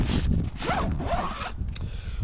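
A zipper on a Sea-Doo Switch pontoon boat's access port is pulled open in one long continuous rasping run, close and clear, ending in a short final tug.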